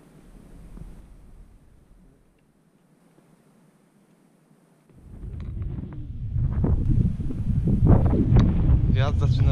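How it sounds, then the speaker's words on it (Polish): Wind blows across a viaduct, rumbling against the microphone, quiet at first, then gusting into loud, buffeting roars in the second half. "Wiatr zaczyna wiać,"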